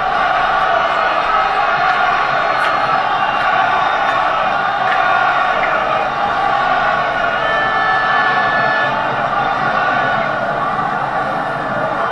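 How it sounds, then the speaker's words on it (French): A rugby crowd at a 2010 Amlin Challenge Cup semi-final between Connacht and Toulon roars continuously as Connacht supporters cheer their team, a loud, dense wall of voices that stays steady throughout with no single speaker standing out. "Entendez la foule du Connard qui pousse son équipe"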